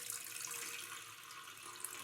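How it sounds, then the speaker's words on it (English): Water poured from a Brita filter jug into a Sage smart kettle, a steady close trickling stream running continuously at low level, with no talking. "Let's pour some water into the kettle"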